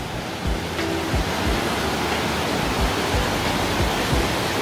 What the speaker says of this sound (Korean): 막 폭포수 소리가 납니다.